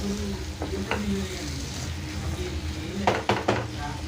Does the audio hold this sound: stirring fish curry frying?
yes